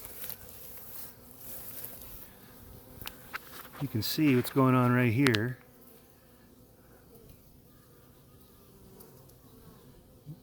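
Bees buzz and drone as they come and go at a hive entrance, a loud close pass swelling for about a second and a half before fading to a softer background hum, with a person talking briefly.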